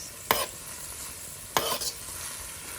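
Cabbage with turmeric cooking in a big skillet, stirred twice with sharp scraping strokes over a soft, steady sizzle, no voices.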